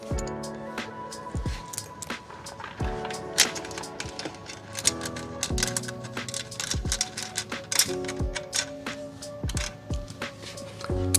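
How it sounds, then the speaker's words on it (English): Flange bolts going onto a T700 World Raid radiator guard give a steady run of sharp, close metallic clicks and taps, tightly spaced and fairly loud, with a few heavier knocks between them. "Now I'm just going to loosely install the flange bolts at the top"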